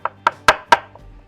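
Four sharp knife chops on a cutting board, evenly spaced and close, as queso fresco is cut up for a smoked cheese dip, followed by a faint softer tap.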